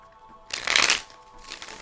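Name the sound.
shuffling tarot cards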